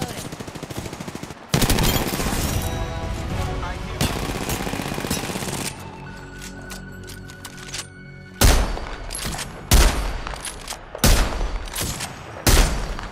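Gunfire in the Apex Legends video game, bursts of rapid automatic shots and sharp single cracks, loud and close, with pauses between volleys and faint voices underneath.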